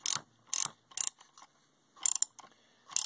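A nut turned down by hand with a proper tool on the fan of a Penguin engine, giving five or six sharp ratcheting clicks in irregular bursts, close and fairly quiet, with no talk.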